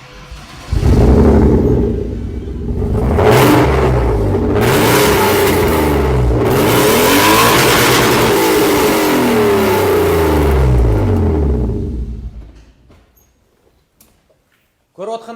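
A used car's engine revved hard several times up close, loud rising and falling surges of roaring rumble before it settles and cuts off, with brief talk underneath.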